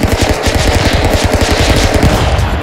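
Rapid automatic Uzi submachine gun fire in a video game, a dense continuous stream of loud, close shots rattling without pause.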